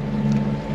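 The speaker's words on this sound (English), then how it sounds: "Engine's on, as you can hear." Inboard engine of a cruising sailboat motoring through calm water, a steady low drone with a constant hum and no breaks over the short stretch.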